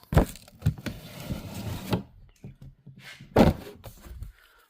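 Cardboard box lifted off a Kyosho Chevelle Phazer AWD RC drag car, with close dull thunks, scrapes and rustling of cardboard in short bursts, and no talk.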